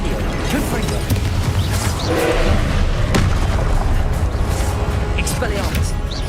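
Fiery spell blasts and booming explosions from the video game Hogwarts Legacy, repeated heavy thumps and crashes in quick succession over a dense combat din, with a voice calling out spell names throughout.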